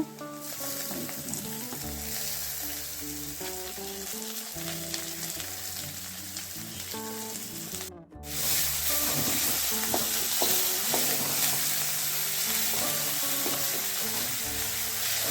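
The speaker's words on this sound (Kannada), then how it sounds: "ಈರುಳ್ಳಿ ಮೆಣಸು ಕರಿಬೇವು ಒಗ್ಗರಣೆ ಮತ್ತು ಟೊಮೆಟೊ ಕೂಡ ಹಾಕ್ಕೊಳ್ತಾ ಇದ್ದೀವಿ ಚೆನ್ನಾಗಿ ಫ್ರೈ ಆದ ತಕ್ಷಣ" Onion, green chilli, curry leaves and tomato sizzle steadily in a tempering pan, with continuous frying crackle and repeated stirring scrapes, close and fairly loud, no talk.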